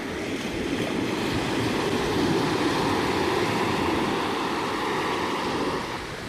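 Surf rolls in at the seashore on Corfu as a steady broadband wash of waves, moderately loud and continuous, with no voices.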